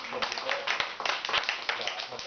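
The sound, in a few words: group clapping hands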